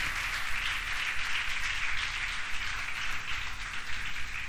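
A church congregation at a Sunday service applauds all the fathers on Father's Day, a dense, steady wash of clapping that sounds somewhat distant and holds evenly for the whole stretch without any voices.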